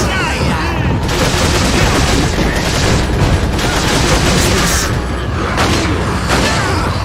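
Dense, continuous bursts of gunfire and explosions from the video game Resident Evil 4 fill the whole stretch loudly, with a few deeper booms mixed into the barrage.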